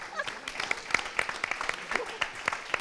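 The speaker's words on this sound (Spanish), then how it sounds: "Un fuerte aplauso, por favor." Scattered, fairly sparse clapping from an audience at a ceremonial event in Valencia, moderately close, with individual claps standing out irregularly.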